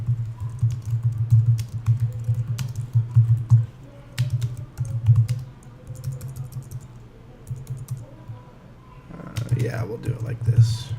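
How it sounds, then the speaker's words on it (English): Fingers type on a computer keyboard in uneven bursts of close, crisp key clicks with short pauses, while someone talks softly over it. "I'm just going to type the name of the object here"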